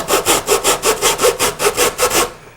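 A hand saw cuts through the nose of a deer mannequin in quick, even back-and-forth strokes, about ten close, loud rasping passes in a steady rhythm before stopping.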